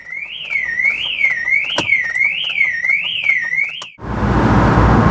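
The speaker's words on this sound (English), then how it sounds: "having woken up the entire neighbourhood with the alarm" A car alarm sounds loud and close, its warbling siren rising and falling in steady repeated sweeps before cutting off abruptly and giving way to a rumbling engine.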